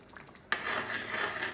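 Chicken kadai being stirred in a pan, a steady scraping and clinking of a utensil against metal that starts abruptly and continues at close range without pause.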